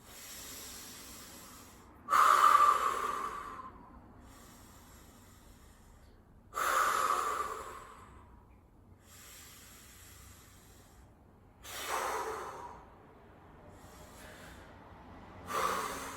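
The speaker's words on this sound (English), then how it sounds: "Take some deep breaths." Slow, deep breaths are taken while holding a stretch during a core-stability workout. Four loud, close, breathy inhales and exhales arrive a few seconds apart, with quiet pauses between them and no talking.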